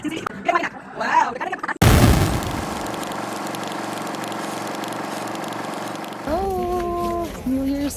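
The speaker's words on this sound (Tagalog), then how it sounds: "we're going to watch the fire show and the fireworks" New Year's Eve fireworks at a Filipino-style celebration in Whistler burst with a sudden loud boom, then a long crackling, rumbling wash fills the air while a crowd cheers and voices rise near the end.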